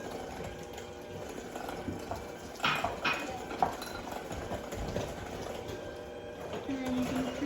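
An electric mixer beating blondie batter with egg in a kitchen, a steady whirring hum with occasional clatter against the bowl, rising as the speed goes up, under a speaker's voice.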